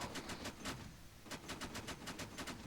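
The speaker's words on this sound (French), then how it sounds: "Les coups de feu rapprochés, ça pourrait être là-bas." Rapid bursts of distant gunfire in the video game ArmA 3 crackle in quick strings, pausing briefly before another volley, with no talking.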